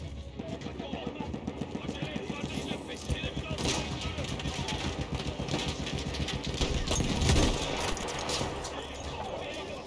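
Rattling bursts of rifle and machine-gun fire in the World War I shooter Battlefield 1, set on the Gallipoli front, crackling continuously with louder shots near the middle and end, with some voices in the background.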